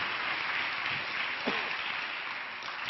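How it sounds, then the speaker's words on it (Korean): A church congregation claps together during a worship service, a continuous, moderately loud patter of many hands with a sharper single clap near the end and no talking. "추위를 뚫고 온 서로에게 격려의 박수를 한번 보내주시겠습니다"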